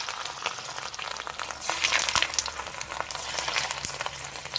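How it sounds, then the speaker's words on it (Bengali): Lentil fritters (dal bora) fry in hot oil on a gas stove, a close, busy bubbling sizzle that swells as more batter drops in, with an occasional soft knock. "তেলটা গরম হয়ে গেছে, গ্যাসের ফ্লেমটা কমিয়ে নিয়ে আস্তে আস্তে বড়াগুলো ছেড়ে দেবো তেলের মধ্যে"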